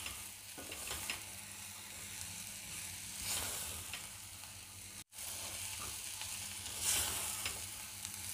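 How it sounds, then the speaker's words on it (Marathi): Turmeric and biryani masala frying in oil in a cooker pan for masala pulao, a steady soft sizzle with faint crackles and stirring, continuous with one brief dropout. "हे सगळे मसाले तेलात चांगले परतून घ्यायचे आहेत।"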